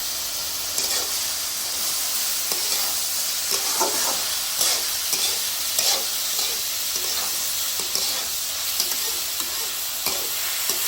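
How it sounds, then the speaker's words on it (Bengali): Radish bhaji frying in a pan gives a steady, close sizzle with soft scraping stirs scattered throughout, and no voices. "এখন এই ভাজিগুলো আমরা নেড়ে চেড়ে ঢেকে দিয়ে আরও কিছুক্ষণ ভেজে নেব"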